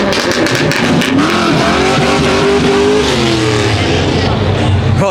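Cars driving past and revving engines at a crowded street car meet, loud and continuous with rising and falling engine notes and a hint of tire squeal, people talking over the noise.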